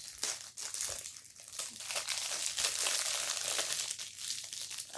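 Scissors cutting through the plastic packaging of a Nerf vest, with loud, close, continuous crinkling and tearing of plastic wrap throughout.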